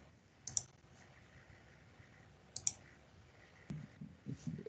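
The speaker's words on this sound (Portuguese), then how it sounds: "Dá um duplo clique nele aí" A computer mouse gives two quick double clicks a couple of seconds apart, faint and close, followed by a few light handling knocks, with no voices.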